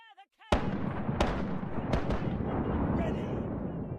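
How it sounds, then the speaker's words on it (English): Cannon fire from a naval broadside in a pirate video game arrives as a sudden loud blast, then a continuous heavy rumble marked by several further sharp booms. "Fire the cannon."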